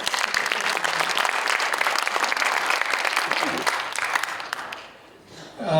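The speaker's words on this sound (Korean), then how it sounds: "네, 박수 한 번만 더" Steady, dense audience applause fills a seminar hall at a Korean church AI education event, sustained and even before fading out near the end as a voice begins.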